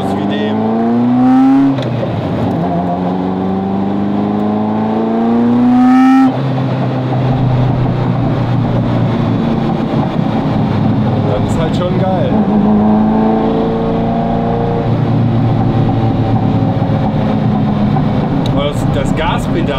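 A Ferrari F40's engine revs up hard from inside the cabin, loud rising tones climbing through the gears with sharp shifts, then a steady strong drone as the car drives on.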